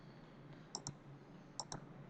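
Two pairs of quick, crisp computer mouse clicks sound faintly, evenly spaced, against a quiet background.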